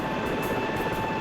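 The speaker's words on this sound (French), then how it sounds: "l'hélico est posé juste à côté." A helicopter in the SAR4 flight simulator game sits landed close by, its steady whirring rotor and engine drone filling the whole moment evenly with no talk.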